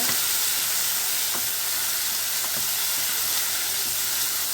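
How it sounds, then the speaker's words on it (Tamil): Tomatoes for a spicy chutney sizzle in a pan while being stirred, a constant close frying hiss with occasional soft scraping strokes. "நல்லா சேர்த்து நல்லா கிளறி விடுங்க ஃப்ரெண்ட்ஸ். தக்காளி நல்லா வதங்கி வரட்டும்."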